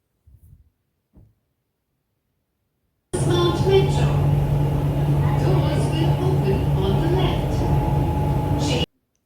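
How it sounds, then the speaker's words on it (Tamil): After brief silence, a steady low rumble and hum of a metro train carriage runs continuously, then cuts off abruptly. "இப்போ நான் மெட்ரோ ஏறிட்டு நான் ஏர்போர்ட் போயிட்டு இருக்கேன்."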